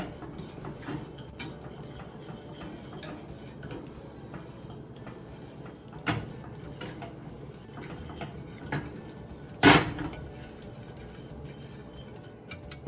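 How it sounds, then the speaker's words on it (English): A utensil stirring half a cup of sugar melting in a pan, soft scraping and light clinks with occasional sharper knocks against the metal, close and fairly quiet. "with a 1/2 a cup of sugar, you're just gonna kind of keep stirring it"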